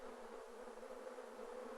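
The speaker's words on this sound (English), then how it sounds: "Vigorous fanning of the wings produces currents of air which evaporate the water" Honey bees fanning their wings inside a hive, a steady close buzzing drone that holds even and continuous throughout with no pauses.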